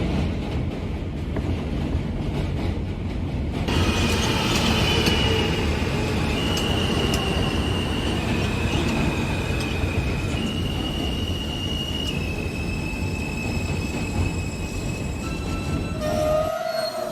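Subway train on the J line in a Minecraft Subwaycraft server, rumbling steadily with wheel squeal and tonal motor whine shifting in steps, running continuously and loud before a brief chime near the end.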